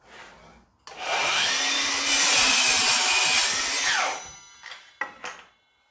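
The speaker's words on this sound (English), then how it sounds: "I'll just perform a 45 degree mitre cut." A Milwaukee Fuel 184mm (7 1/4 inch) sliding compound mitre saw spins up loudly and makes a 45-degree mitre cut, a steady whining cut of about three seconds that winds down, followed by a couple of short clunks.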